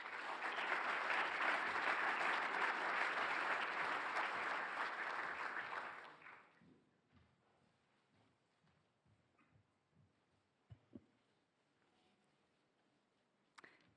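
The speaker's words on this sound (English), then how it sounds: "An applause for Signe." Audience applause greets a speaker at a symposium opening in Berlin, a loud, dense burst of clapping for about six seconds that stops abruptly, leaving a quiet room with faint shuffling and a few small knocks.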